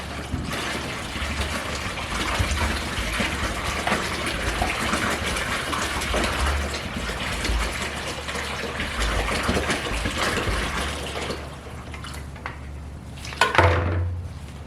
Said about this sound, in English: I just pour it in